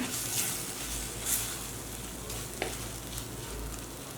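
Steady sizzling of pepper rasam ingredients sautéing in a pan on low flame, close and continuous, with a few scraping stirs and clinks over the crackle.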